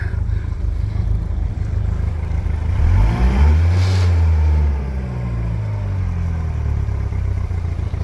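A 1999 Honda 90hp inline four-cylinder four-stroke outboard boat motor with four carburetors hums steadily, with a brief rise and fall in pitch midway as it is revved and eases back.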